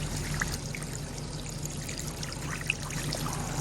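Water siphons out of a hot tub through a red garden hose, a steady, faint, continuous trickling and pouring flow with small gurgles and no talking.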